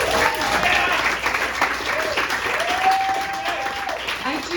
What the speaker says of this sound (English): Can we do a round of applause for you guys for coming out tonight?